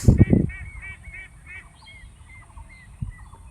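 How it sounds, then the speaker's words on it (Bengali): A flock of ducks calls in a rainy village setting, a rapid series of nasal honking quacks that repeat over several seconds, fairly close. A brief burst of voice or handling noise comes at the start. "অনেকগুলো হাঁস।"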